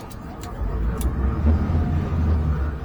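Twin Yamaha F200 outboards on a 2023 Stabicraft 2750 Ultra Centrecab run in reverse, a steady low rumbling drone close by with slight surges, no speech over it.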